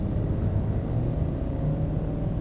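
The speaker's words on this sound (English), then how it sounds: "Man, that's a noisy car again." A noisy passing car in American Truck Simulator, a steady low engine rumble and road drone that stays loud and even throughout, with no talk over it.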